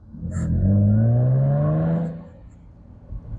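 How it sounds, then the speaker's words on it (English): A deep, throaty Jaguar F-Type exhaust, sports exhaust engaged, roars as the engine climbs in pitch for about two seconds, then drops back to a low burbling idle. "if you push this little button right here, you engage the sports exhaust"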